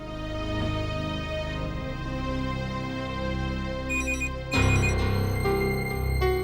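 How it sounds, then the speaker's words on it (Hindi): A phone rings with a tonal electronic melody over a steady musical drama score, the tune swelling louder and brighter toward the end, with no speech. "शायद जिया का फोन होगा।"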